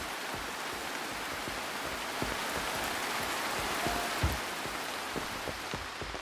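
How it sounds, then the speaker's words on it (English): Steady rain in a video game patters down with scattered heavier drops, a constant hiss at low volume with no voices. "I know it's raining."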